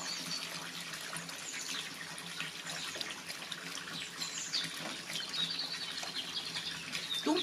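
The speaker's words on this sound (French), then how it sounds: "il me manque un peu d'eau, je vais en rajouter" Water being added to crumbled paper pulp, a faint steady pouring and trickling with small splashes, close by and unaccompanied by talk.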